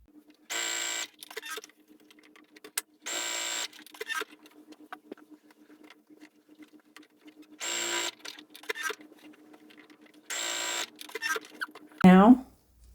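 Sewing machine stitching fabric for a bowl cozy, running in four short bursts of rapid, steady whirring with quiet pauses between them and a faint hum throughout, close by; a brief voice comes in at the very end.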